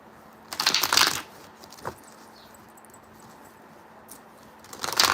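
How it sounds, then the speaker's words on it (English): Tarot cards being shuffled by hand, two riffling bursts at the start and end and a single soft flick between, close and fairly quiet against a steady background hiss. "every time I shuffle these cards"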